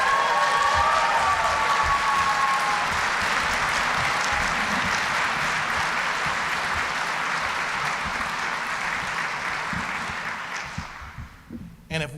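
Audience at a district attorney's swearing-in ceremony breaks into sustained applause, full and steady for about ten seconds before thinning out and fading near the end.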